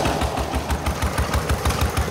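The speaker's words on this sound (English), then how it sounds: "So that belt-driven engine is anchored to the ground so they could pull that long belt tight to turn the grinder inside the building" Belt-driven stationary engine anchored to the ground at the Clinton Apple Pork Festival, turning a grinder: a loud, close, steady chugging with a regular rhythmic thump and no talk.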